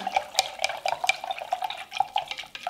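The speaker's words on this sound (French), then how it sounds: "Et je mélange bien." Spoon stirring chopped vegetables in a jar with homemade apple vinegar for Turkish lacto-fermented pickles, a series of close, bright clinks and wet splashy scrapes in an irregular rhythm.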